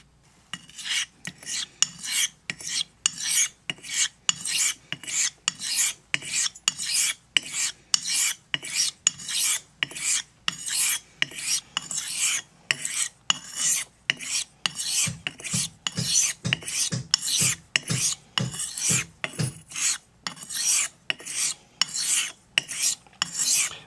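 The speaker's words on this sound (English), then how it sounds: "Okay, let's hone this thing." A Thiers Issard straight razor is honed on a sharpening stone: regular back-and-forth rasping strokes, close and fairly loud, repeat in a steady rhythm about twice per second with no talking.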